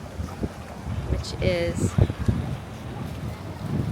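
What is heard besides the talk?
wind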